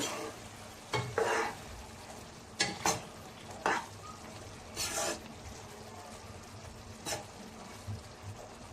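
Onion egg curry being stirred in a pan, a spoon scraping and turning the mixture in short irregular bursts over a soft, steady sizzle, close and moderately quiet with no talk.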